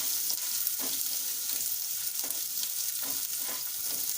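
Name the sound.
green chillies lightly frying in a pan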